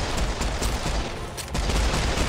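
Dual pistols fire rapidly in Serious Sam 4, a loud, continuous stream of overlapping gunshots with battle noise and no break in the shooting.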